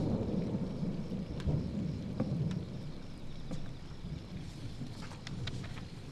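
Steady rain falls with scattered drops ticking on surfaces while low rolls of thunder rumble in the distance, all fairly quiet and with no voices.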